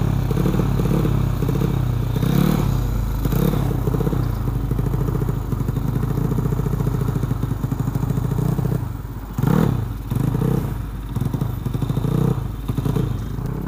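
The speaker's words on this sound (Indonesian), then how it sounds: "ini yang ketiga kalinya gue gas" A Vespa scooter fitted with a 68mm piston and carburettor revs hard, its loud, rasping engine note rising and falling in repeated throttle blips, with mechanical clatter and thumps close by.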